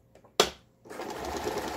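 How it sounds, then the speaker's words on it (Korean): A Lion 1004 household sewing machine stitching in reverse, a sharp mechanical clack followed by a brief pause and then a steady rapid whirring chatter of the needle running, close and alone. "후진 버튼 정상 작동. 후진 되고 있죠?"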